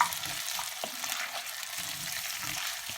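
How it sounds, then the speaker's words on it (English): Potatoes and onions fry together in a pan for a corned beef hash, a steady close sizzle with soft scraping knocks as they are stirred, no voices. "just get your potatoes all whole, drop them into that pan, mix them into the onions"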